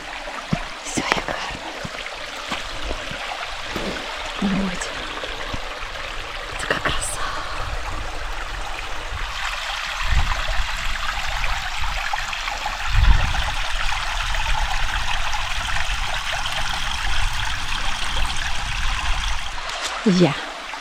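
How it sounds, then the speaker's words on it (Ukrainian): Steady broadband rushing of a small stream flowing toward a waterfall, continuing throughout with occasional brief knocks and rustles nearby. "тут водичка в струмочку є"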